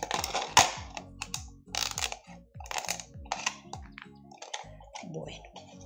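Scissors cut through material in a crafting demonstration, making a series of sharp snipping clicks at an irregular pace, close to the microphone, with faint voices intermittently in the background.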